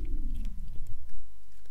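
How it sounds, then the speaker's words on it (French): A video game monster chews with crunchy bites like dry dog food, a close, loud run of wet crunches over a falling low growl, heard alone. "on dirait qu'elle bouffe des croquettes pour chien quand elle me mange"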